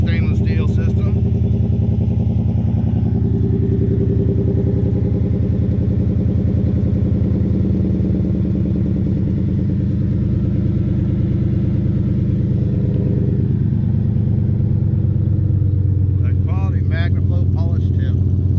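A 2019 Ford F150 with a 5.0L V8 and a mandrel-bent 4-inch stainless Magnaflow exhaust with polished tip and high-flow cat idles and revs with a loud, deep, steady rumble, swelling and easing midway.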